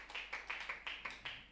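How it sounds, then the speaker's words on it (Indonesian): Church congregation clapping in an even rhythm, about eight distinct claps at a steady pace, fairly soft and slightly distant. "Beri tepuk tangan buat Tuhan Yesus."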